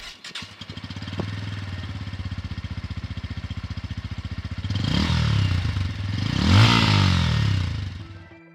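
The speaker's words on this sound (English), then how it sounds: "it probably has the best sounding exhaust in this segment" A 2023 Bajaj Pulsar N160 motorcycle idles with a steady, throbbing exhaust burble, then revs up twice in rising, louder bursts near the mic before settling back. No one speaks.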